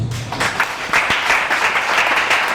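Church congregation applauding Jesus during a prophet's sermon, a lively burst of dense clapping that stays steady and fairly loud throughout.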